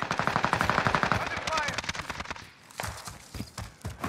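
Rapid bursts of Milano submachine gun fire in Warzone's Rebirth Island, loud and close with quick rhythmic shots in clusters, then a pause and a few scattered later shots, with game effects and players talking over it.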